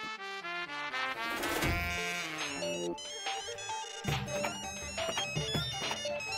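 A mobile phone ringtone plays a bright, melodic tune, loud and continuous for several seconds at close range, with no talking over it.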